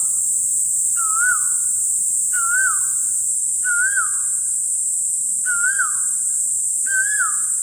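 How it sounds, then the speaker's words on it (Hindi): Asian koel calling outdoors: five repeated clear whistled notes that rise and then fall, spaced evenly about a second and a half apart. The calls sit a moderate distance away over a constant high insect-like hiss, with no one talking. "मेरे पीछे जो आवाज़ आ रही है कोयल की, ये आप सुन सकते हैं।"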